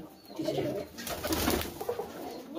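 Lotan pigeons coo softly and repeatedly at close range, making low, throaty, rolling calls over light background noise with no talk.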